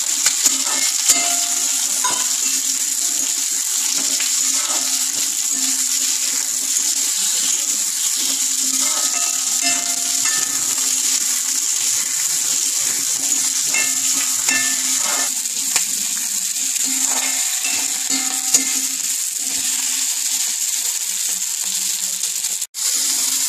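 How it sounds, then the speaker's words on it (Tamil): Onion, tomato and red chilli sauté in a pan, giving a steady, close sizzle and frying hiss for the whole stretch. Occasional stirring scrapes come through, with no talking. "வெங்காயம், தக்காளி, சிகப்பு மிளகாய் இது எல்லாத்தையும் நல்லா வதக்கி ஆற வச்சு அரைக்கணும்."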